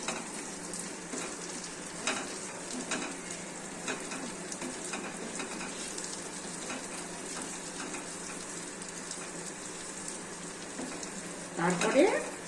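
Kamini Bhog atap rice and moong dal fry quietly in a pan while being stirred, giving a soft, continuous sizzle with faint scraping. A louder stirring burst comes near the end.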